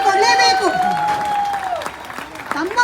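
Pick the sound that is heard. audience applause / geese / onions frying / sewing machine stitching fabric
audience applause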